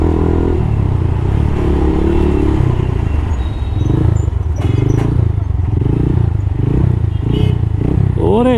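A TARO GP1 motorcycle engine and exhaust run loudly and steadily close by, with a low rumbling drone throughout and brief rev rises near the end, while a voice talks over it.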